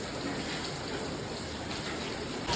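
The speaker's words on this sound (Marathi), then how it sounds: "रिमझिम पाऊस" Soft, steady hiss of light rain falling, continuous and even, with no voices.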